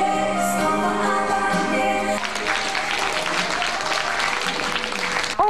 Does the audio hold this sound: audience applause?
yes